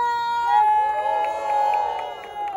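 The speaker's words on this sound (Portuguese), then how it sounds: "muito barulho para quem gostou das rimas de Cro e Sofia?" Crowd at a Brazilian freestyle rap battle final cheering for the rappers: sustained shouting and whistling from a packed audience, loud and continuous.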